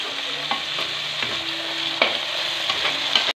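Chopped tomatoes and finely cut capsicum sizzling steadily in a pan, with a spoon stirring and tapping the pan a few times over the close, continuous frying hiss.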